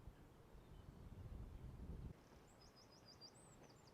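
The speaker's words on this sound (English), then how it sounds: "Can you hear the song of the birds?" Birds singing in a valley by a stream below old hillside fortifications near Plymouth, with a short repeated series of high chirping notes, fairly distant, over steady low wind and water rumble.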